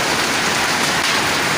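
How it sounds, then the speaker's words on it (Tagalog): Heavy rain mixed with hail pours down during a hailstorm, a steady dense hiss of drops and ice pellets striking surfaces close by, loud and continuous with no voices. "Wala ko sana maligo sa ulan. Ang problema ay may kasamang yelo."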